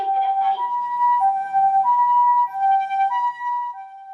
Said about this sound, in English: This here was actually my first encounter with a Japanese ambulance